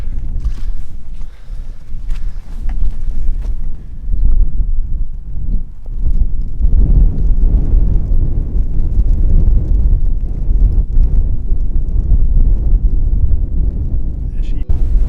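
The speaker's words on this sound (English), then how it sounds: "Wow, it's freaking windy." Strong wind on a hilltop buffets the microphone in a constant low roar, gusting heavier after the first few seconds and continuing throughout.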